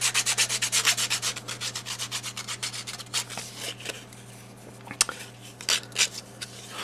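Rhythmic, fairly close rubbing strokes of sanding on a watercolor paper jewelry pendant, a steady run of strokes that thins to sparser scrapes with a low steady hum underneath.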